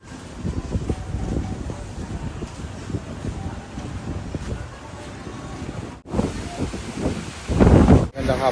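Strong wind on Boracay buffets the microphone in gusty, rumbling bursts, growing louder toward the end, with faint voices mixed in.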